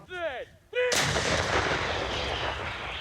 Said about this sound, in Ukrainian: І 152 міліметрові снаряди мчать крізь туман.